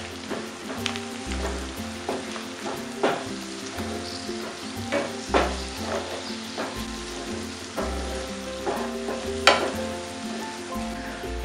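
Tiny prawns sautéing with turmeric in a pan, a steady sizzle punctuated by regular scraping stirs and clanks of the spatula, close and clear with no talking.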